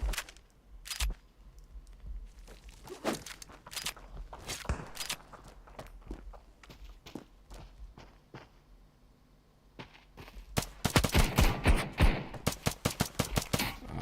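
Rapid bursts of gunfire in the mobile shooter Standoff 2, scattered shots and footsteps early on, then a loud, dense volley of repeated shots near the end.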